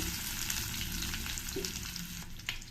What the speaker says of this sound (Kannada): ಸಣ್ಣ ಕಟ್ ಮಾಡಿರೋಂತಹ ಒಂದು ಈರುಳ್ಳಿ ಹಾಕ್ಕೊಳ್ತಾ ಇದ್ದೀನಿ